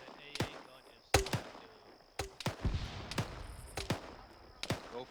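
An anti-aircraft gun in ArmA 3 pounding out sharp, distant-sounding reports in irregular pairs and singles, each with a short echoing tail over a low battlefield rumble.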